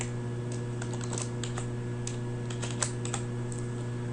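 Typing on a computer keyboard while entering a data code into R software, with irregular light clicks in short runs over a steady electrical hum.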